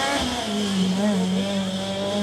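Formula Student race car running on a skidpad, a sustained high whine with a steady droning engine tone that wavers slightly in pitch as it circles, continuous and fairly loud throughout.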